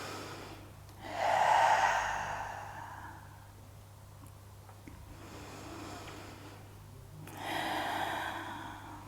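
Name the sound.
breathing in during a yoga exercise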